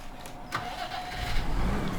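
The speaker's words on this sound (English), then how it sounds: "Decent engine sounds as well." A tractor engine in Farming Simulator 17 cranks over and catches, settling into a steady mid-pitched idle that swells slightly louder toward the end, with no talk over it.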